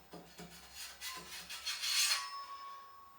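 Short rasping strokes of sandpaper rubbing across a jigsaw-cut wood edge, a few quick passes then a longer sustained scrape, close and moderately quiet.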